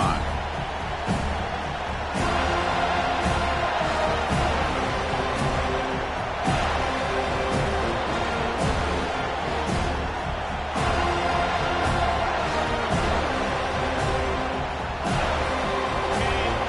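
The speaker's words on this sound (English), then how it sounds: "It's early, but this crowd is fired up. Listen to this noise here." A roaring stadium crowd in the college football video game CFB 25, a dense sustained cheer that swells in rhythmic waves with sharp bursts, loud and continuous.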